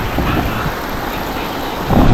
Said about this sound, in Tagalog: Grabe, lakas na ng ulan.